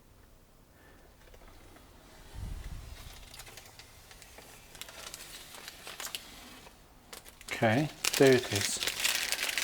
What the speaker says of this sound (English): I think we are ready to peel off the cover.